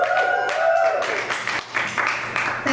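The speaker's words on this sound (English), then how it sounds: "Thank you, I love it when people clap for me being alive." Applause from a comedy club audience breaks out and holds as a dense, steady wash of many hands clapping, fairly close and filling the room.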